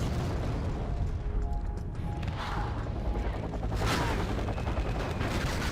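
An MLRS rocket artillery barrage in Wargame Red Dragon pounds away in a dense, continuous roar of overlapping blasts and crackling impacts stopping a tank assault, loud throughout with no pauses.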